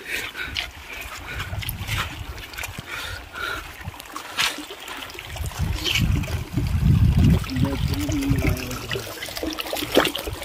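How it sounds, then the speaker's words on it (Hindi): Water splashing and trickling as children play in a lake, with irregular sloshes and splatters building louder toward the end over a steady outdoor background. "ये पानी से खेलना शुरू कर दिया इन्होंने"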